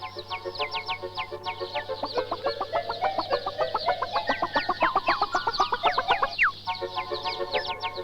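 Chickens at an industrial poultry farm cluck and chatter in a dense, continuous chorus from many birds, rapid overlapping calls over a steady low mechanical hum.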